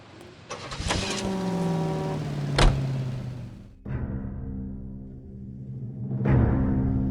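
A car engine in the video game L.A. Noire cranks and starts, then idles and revs with a sharp knock partway through, drops off briefly and then picks up again as the car pulls away.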